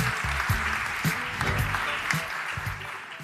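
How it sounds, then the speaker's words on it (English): A conference audience applauds as the speaker, Merck's Chief Digital Officer, is introduced, with dense overlapping claps filling the room at steady strength for a few seconds. "An applause for James Kugler."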